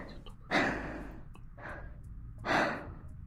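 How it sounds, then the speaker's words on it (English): A sleeping young woman breathes gently on a sofa in a train's stewardess cabin, two soft, airy exhalations rising and fading about two seconds apart, close by and quiet, with no talking. "Gentle breathing."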